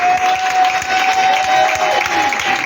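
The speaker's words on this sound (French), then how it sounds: "On va acclamer avec joie." A church congregation at a prayer service breaks into joyful applause and cheering, a dense, steady wash of clapping and crowd noise close by with a sustained tone running through it.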